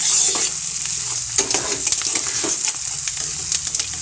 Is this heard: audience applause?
no